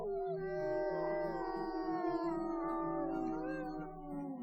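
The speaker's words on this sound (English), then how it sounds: "We are going to howl you a farewell." Several wolves in the video game WolfQuest howl together in a long farewell chorus, overlapping drawn-out tonal howls rising and falling over a soft low musical drone, clear and steady with no speech.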